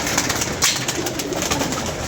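Pigeons at a pigeon keeper's loft outdoors, with busy wing flutters and soft bird sounds over a constant noisy background.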